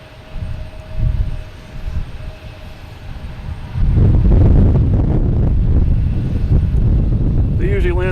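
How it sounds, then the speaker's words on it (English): Air France Airbus A350 from Paris arriving at Boston Logan: a low roar rises sharply midway and stays loud and close, mixed with gusty wind buffeting on the microphone. "next to arrive, we have Air France coming from Paris, an A350"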